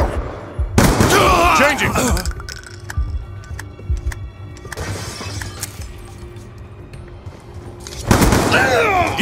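Gunfire and explosive impacts ring out in a Call of Duty team deathmatch on the Nuketown map, with loud bursts near the start and end and a quieter stretch between, while a player speaks briefly.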